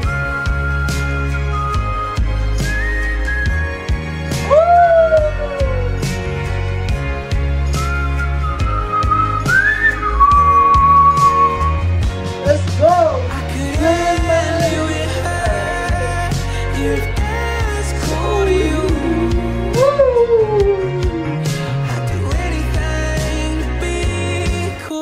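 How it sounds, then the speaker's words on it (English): Melodic whistling from a song, several sliding whistled phrases over a loud music track with a strong, steady bass beat. "Let me hear that whistle one more time"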